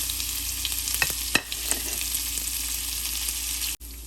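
Cumin, white sesame seeds, chopped chillies and curry leaves sizzle in hot oil for a poha dhokla tempering, a steady close crackle with a few sharper pops and stirring scrapes before it cuts off abruptly.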